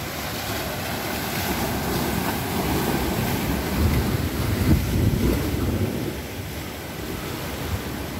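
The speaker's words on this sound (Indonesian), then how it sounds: "Kita nikmati deburan ombak" Ocean waves breaking on the shore at a seaside park in Aceh: a constant, broad wash of surf with gentle swells in loudness, mixed with wind buffeting the microphone, no voices.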